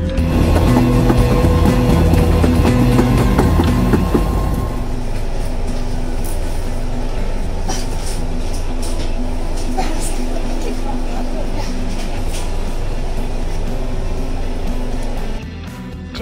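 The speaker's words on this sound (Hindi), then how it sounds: "जितनी शांति से मेरी ट्रेन चल रही थी" A train heading to Kochi in Kerala rumbles along steadily, a continuous rolling roar with rhythmic wheel clatter, heavier at first then settling, while a person talks over it throughout.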